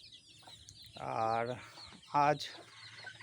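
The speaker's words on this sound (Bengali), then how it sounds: "এই মুরগিটা 17টা বাচ্চা তুলেছে।" A desi hen that hatched seventeen chicks four days earlier gives two drawn-out, nasal clucking calls at close range on a West Bengal poultry farm, with a quiet word spoken just before.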